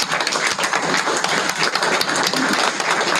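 An audience at a school board meeting applauds in a steady, dense wash of clapping that holds at an even loudness throughout.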